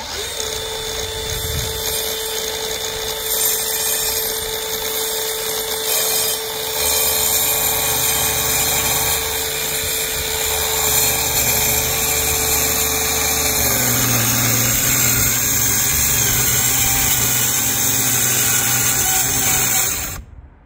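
A small power tool such as a jigsaw, router or trimmer cuts a wooden subwoofer speaker panel, a steady high-pitched motor whine running continuously for about twenty seconds with a pitch shift partway through, no talking.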